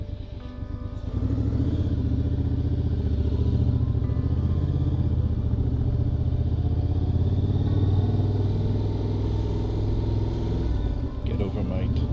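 A motorcycle rumbles steadily through a village square in a Greek mountain village, its low engine drone loud and close throughout, with people talking over it.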